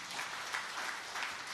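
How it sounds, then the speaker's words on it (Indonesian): Church congregation applauding during a sermon by Ps Lukas Kusuma: a fairly faint, continuous patter of clapping from a crowd in the room, with no talking over it. "Yang percaya tepuk tangan yang meriah."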